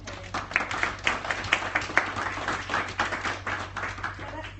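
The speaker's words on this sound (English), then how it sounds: "A round of applause, I think, for Ian and Terri." Audience applause at a business networking event on winning public sector work, a moderate spread of clapping from a modest crowd, steady and fairly faint throughout.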